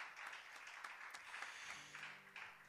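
Applause from a church congregation, soft and somewhat distant clapping that swells and ebbs, with a faint sustained tone entering partway through.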